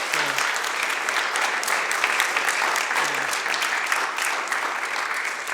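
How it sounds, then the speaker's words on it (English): Audience at a human rights history lecture giving a speaker a sustained round of applause, dense steady clapping lasting several seconds with no talk. "Please join me in a big round of applause for Stephen L. Jensen."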